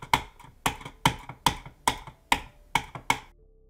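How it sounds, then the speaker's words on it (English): Computer mouse clicked hard by a Geometry Dash player, about eight sharp, loud clacks spaced roughly half a second apart, close and alone with no talking. "I am even guilty of deliberately slamming my mouse, to the point where my family sometimes grows agitated at the noise."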